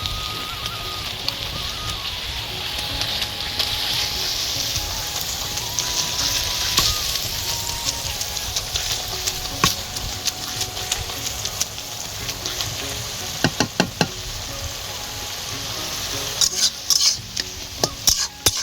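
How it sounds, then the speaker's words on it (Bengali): Greens, potato and eggplant are mashed in a frying pan with a wooden masher. A steady sizzle runs underneath, with scraping and stirring, and a cluster of sharp knocks comes near the end. "একটা ডাল কাটা দিয়ে শাকটাকে আলু বেগুনটাকে থেঁতো করে নেব"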